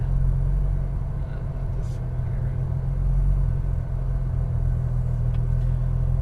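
A Porsche Cayman R rolling slowly toward a cool-down spot under a tent, its engine giving a low steady rumble with a deep idle hum, close and continuous with no revving.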